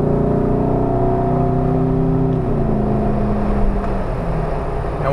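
A 6.0-litre iron-block V8 in a Jeep Wrangler JK accelerates up a gentle freeway on-ramp, its steady engine drone rising in pitch as it pulls hard to freeway speed, loud and close with no talk.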